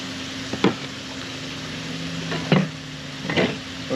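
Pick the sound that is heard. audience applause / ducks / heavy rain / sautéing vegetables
sautéing vegetables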